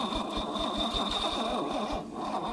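An old abandoned Mercedes-Benz 4x4 with a tight engine is cranked over on its starter, a fast, steady rhythmic churning of regular pulses that runs continuously at close range with no voices.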